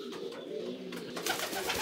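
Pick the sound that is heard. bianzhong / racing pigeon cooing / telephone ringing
racing pigeon cooing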